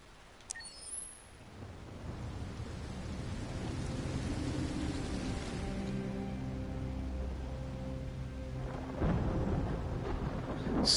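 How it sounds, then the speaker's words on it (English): Thunder rumbles through a stormy night in the game Nobody Becomes Human, low and rolling over steady rain, swelling louder near the end with no talking. "Stormy, stormy night."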